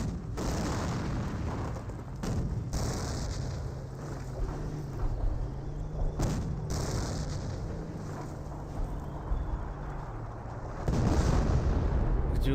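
Artillery shells land in a Company of Heroes battle, several booming impacts spaced across the stretch over a continuous low rumble of combat, with a heavier blast near the end.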